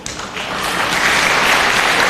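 Applause from a live-show audience breaks out and swells to a steady, dense clatter of many hands, loud and close for a couple of seconds with no voice over it.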